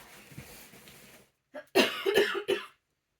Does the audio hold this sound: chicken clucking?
no